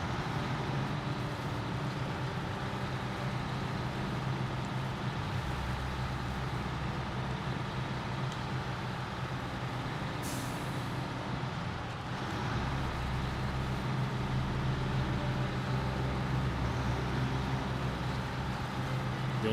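A truck in the off-road driving game Snowrunner rumbles steadily through rough terrain, a continuous low engine drone with faint grinding, heard alone without talk.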